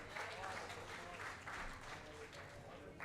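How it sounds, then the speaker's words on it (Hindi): Applause from an open mic audience, a steady wash of many hands clapping for about three seconds, heard at a distance and fairly faint. "जोरदार तालियां कागज के लिए।"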